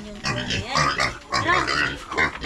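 Piglet grunting close by in a rural pen, a run of short snorty oinks in quick bursts, heard alongside people talking.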